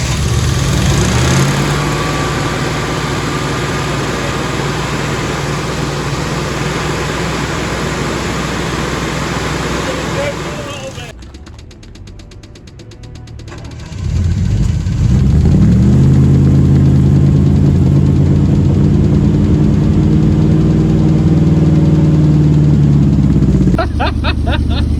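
A rare classic V8 car engine catches and settles into a loud, steady idle with a lumpy low rumble, after an earlier run and a brief drop to near silence; people talk nearby.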